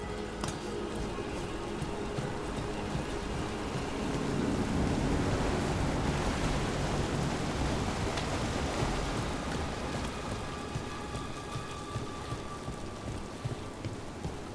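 A waterfall in the fantasy game Dragon Age: The Veilguard pours as a dense, steady rushing hiss that swells slightly midway, with faint voices barely audible beneath it.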